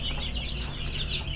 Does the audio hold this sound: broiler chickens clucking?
yes